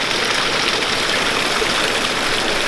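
Mountain stream flowing beside a hiking trail on the Chimney Tops, a steady broadband rush of running water that stays loud and continuous throughout with no pauses.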